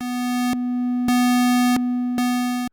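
A steady synthesizer tone holds one pitch while its timbre flips back and forth several times, alternating between a buzzier square wave and a softer, rounder triangle wave.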